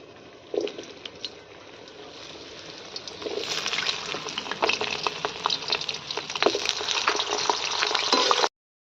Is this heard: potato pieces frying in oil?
yes